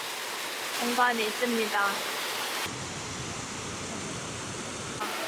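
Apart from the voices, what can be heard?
artificial waterfall flowing in a botanical garden greenhouse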